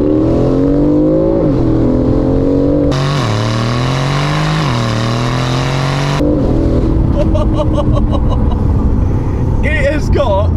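Straight-piped, tuned 2019 Aston Martin Vantage, a rebuilt wreck, accelerating hard through several gears, loud close exhaust with rising pitch sweeps, a sharp step up in volume mid-run, and crackling pops afterward.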